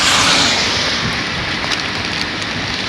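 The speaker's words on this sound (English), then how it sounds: "Hear that thunder?" Heavy rain during a hard storm on a Chicago street, a dense, steady loud roar of downpour with a low rumble of thunder blended in, no talking.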